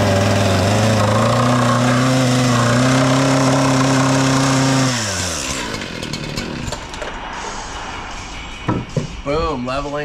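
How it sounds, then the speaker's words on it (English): A loud chainsaw drones steadily at close range cutting cedar deck and fence wood, then its pitch drops as it bogs down and cuts off, followed by scattered clunks and a brief revving burst. "Time for a little chainsaw carpenters."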